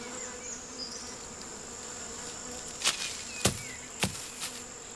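Bees buzz around ripe fruit such as sweet Williams Christ pears in an autumn mixed orchard, a steady insect drone with several sharp close fly-by buzzes passing near the end.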